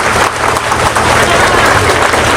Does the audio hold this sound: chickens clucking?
no